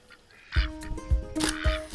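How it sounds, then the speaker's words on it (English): White Pekin ducks in a backyard farm flock quack nearby in a few short, raspy bursts, loud and clear with no talking. "The white Pekin is the breed of duck that you probably think of when you think backyard breed."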